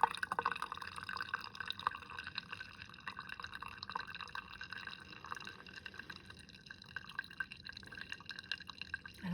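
Coffee drips steadily through a ZERO JAPAN ceramic drip cone brewer, a faint, continuous trickle and patter of liquid with no talking.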